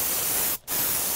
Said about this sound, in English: I'm spraying this and then I have to let it dry